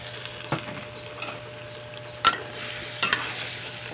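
A spoon stirs chicken curry with carrots and potatoes in a pot, with a few distinct scraping knocks against the pot over a steady low simmer. No voices.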